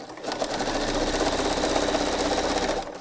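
A sewing machine stitching stretched elastic, polybraid or Lastin, runs in one close, steady, fast burr for about three seconds before stopping, with no talking.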